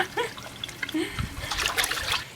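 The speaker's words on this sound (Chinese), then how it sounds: "你看我把黑肚都洗成白肚了" Beef tripe being washed by hand in water, with irregular trickling, splashing and dribbling close by for the whole stretch and no speech.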